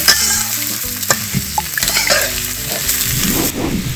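Pieces of chalkumra, ash gourd, frying in a pan until brown, a loud continuous sizzle with a spatula stirring and scraping through it, close by.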